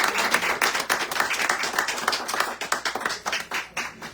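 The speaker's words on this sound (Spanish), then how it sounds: "Así que un aplauso" Audience applause bursting out at a Spanish-language spoken word show, a dense patter of many hands clapping steadily and fairly close for several seconds with no talk over it.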